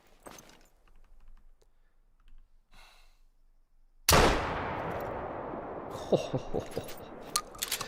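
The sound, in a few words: rifle gunshots in video game theHunter Call of the Wild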